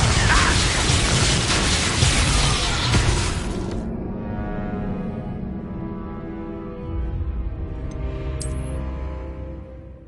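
Confringo fire spell from Hogwarts Legacy bursting in a heavy, bright explosive blast for the first few seconds, then a low rumbling tail with a faint sharp chime near the end.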